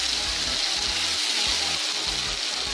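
Masala sizzles and fries in a kadai for an aloo arvi curry, a steady bright hiss of hot oil with faint low stirring knocks beneath, close and continuous.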